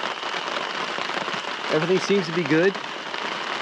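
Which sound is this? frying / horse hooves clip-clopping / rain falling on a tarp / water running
rain falling on a tarp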